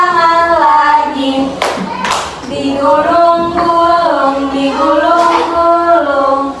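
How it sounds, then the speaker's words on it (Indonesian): Sharp hand claps, a few of them, fall in time with a loud sung children's song. "tepuk tangan lagi"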